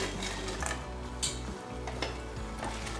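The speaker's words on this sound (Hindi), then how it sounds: "और इसे अच्छे से मिक्स करेंगे ताकि सारे सॉसेस जो अपने फ्लेवर है रिलीज कर दें" Fried potatoes tossed into sizzling sauce in a pan make a steady quiet hiss punctuated by a few stirring scrapes and clinks.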